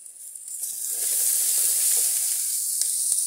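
Roasted corn frying in a pan with chopped chili, onion, coriander and black salt, giving a steady close sizzle that grows fuller and louder, with light stirring clicks.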